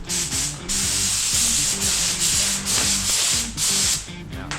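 A spray gun lays primer on rebuild parts in a workshop, giving loud hissing bursts in quick succession over a low, pulsing mechanical hum.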